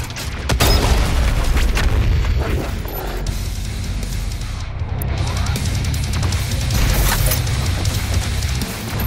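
The BFG 10,000 in DOOM Eternal fires with a loud, sustained deep rumble and booming crash, heavy low-end roar holding steady for several seconds with no speech over it.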